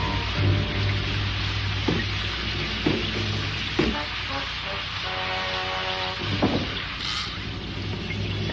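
Steady broadband rain falls outside a cabin on the prairie, a dense continuous hiss with a few soft thumps, heard amid background music.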